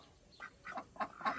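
Domestic duck on a small rural farm quacking in a short run of about four nasal calls, close and moderately loud, with no talk over them.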